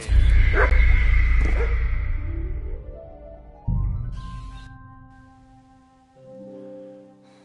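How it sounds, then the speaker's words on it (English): A dog barks a few times in the video game Kingdom Come: Deliverance II, with loud, close yelps first, then fading whines and a later bark, while game ambience and tonal sounds carry on. "What's that dog making such a fuss about?"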